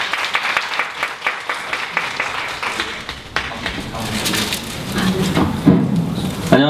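A lecture audience claps as a 3D printing gallery director is introduced, scattered individual claps building into fuller applause, with voices talking over the later part.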